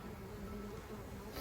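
Honey bees from a backyard hive in North Port, Florida, make a steady, close buzzing drone that holds unbroken through the short clip, with no voices over it.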